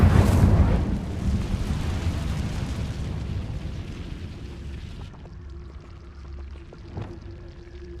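Incendio fire spell cast in Hogwarts Legacy: a loud, roaring whoosh-burst of flame at the start that fades into a crackling, rumbling tail, followed by softer clicks and a faint tone, with no talk.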